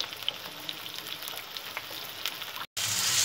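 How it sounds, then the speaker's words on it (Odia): Onion with whole garam masala, bay leaf and green chilli frying in hot oil, a steady close sizzle throughout with a brief cut near the end before the sizzle resumes louder. "ଏଇଟା ଗୋଲ୍ଡେନ୍ କଲର୍ ଯାକେ ଭାଜିଦେବା ଟିକେ ଆକୁ ଭଲକି"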